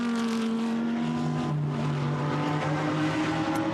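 A GT race car at the Misano circuit in the Blancpain GT Sports Club race, with a loud, steady engine drone that shifts pitch as it comes out of a turn at low speed, heard close with no talk.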